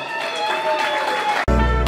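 An audience claps at a wedding comedy show, a steady dense applause lasting over a second before it gives way abruptly to loud music.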